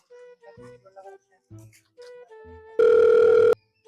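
A telephone tone sounds while a call is being placed: one loud, steady electronic burst near the end that lasts under a second, after stretches of voices talking.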